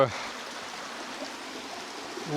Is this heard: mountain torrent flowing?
yes